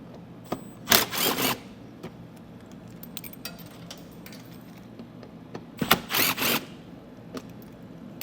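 T15 fasteners being removed from the wheel well of a 2024 GMC, heard as two short, loud bursts of a whirring power driver separated by quiet shop ambience with faint clicks.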